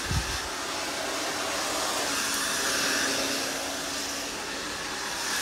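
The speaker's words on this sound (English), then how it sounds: "now he blowing the blow dryer in my face now" A hair dryer blows close by in a steady, loud, unbroken rush of air that runs the whole length, with no voices over it.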